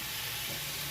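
Masala spice paste frying in a wok (kadai), a steady broadband sizzle with no distinct stirring strokes, close and continuous for under a second.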